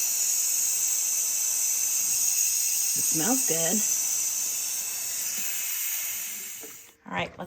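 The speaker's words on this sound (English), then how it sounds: "I'm going to bend it. And let that steam come out." Steam hisses steadily from the release valve of an electric pressure cooker during gumbo cooking, a loud continuous hiss that runs for several seconds while a person briefly speaks over it, then cuts off abruptly.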